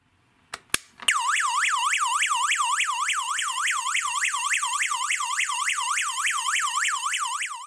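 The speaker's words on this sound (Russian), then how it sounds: "Если крепление разъединить с устройством, оно включает сирену." After a couple of sharp clicks, a security alarm device's loud electronic siren starts wailing, rising and falling quickly over and over in a shrill, piercing pattern.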